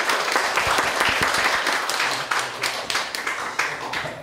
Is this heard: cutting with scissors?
no